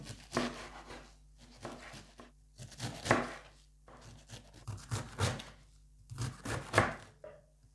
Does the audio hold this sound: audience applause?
no